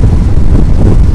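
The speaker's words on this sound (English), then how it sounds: "It's quite windy here in our location" Wind buffeting a microphone outdoors on the windy west coast of British Columbia, a loud, close, low rumbling roar that fills the brief moment with no speech.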